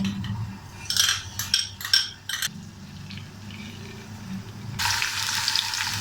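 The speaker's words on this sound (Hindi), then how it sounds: "ये गर्म हो जाए तो इसमें डालते हैं लहसुन" Garlic frying in hot oil for a tadka: a few bursts of crackling sizzle that then settle, followed by a steady, louder hiss of frying toward the end, with no talking.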